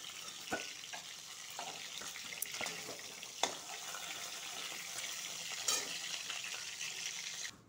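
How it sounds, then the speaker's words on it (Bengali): Lentil bori fry in fish oil in a pan, giving a steady, moderate crackling sizzle. A few sharp clinks and taps of a utensil come through the frying noise. "মাছের তেলে একটু ডাইলে বড়িটা ভেজে নিব"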